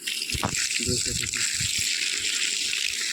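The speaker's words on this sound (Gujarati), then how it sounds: "આપણે પાછળના ભાગમાં પાણી ચાલુ કરી દીધું છે" Water runs continuously to irrigate backyard fruit plants at a home garden, a loud steady gushing rush close by, with people talking over it.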